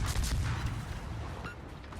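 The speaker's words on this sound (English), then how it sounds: "it's the fort shooting at me" Fort guns firing at the player's ship in World of Warships, a dense rumbling barrage of booms and shell fire that starts loud and heavy, then eases into a steadier low roar with a brief sharp crack partway through.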